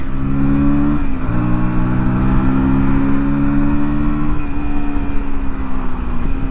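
A KTM Duke 160 motorcycle rides along an open road, its engine droning loud and steady with a brief dip and rise in pitch near the first second and again later, like gear changes.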